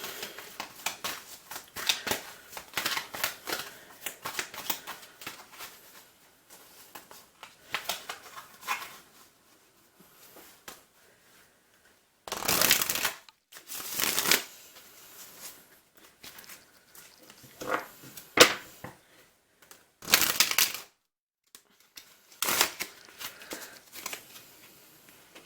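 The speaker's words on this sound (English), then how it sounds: "So I'm just picking up a couple more cards for clarity." Tarot cards are picked up and handled in close, crisp bursts of shuffling and riffling, several loud flurries separated by quieter rustles and pauses.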